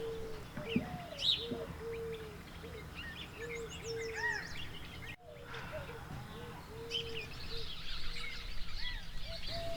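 Many birds call at Bully Creek Campground in the early afternoon, with repeated low dove coos over scattered chirps and tweets at varying distances. The chorus runs continuously throughout and briefly dips near the middle.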